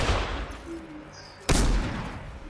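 A single sharp pistol shot cracks out loud and close in the video game Fortnite, with a sudden broadband burst and a short tail over a background of game noise.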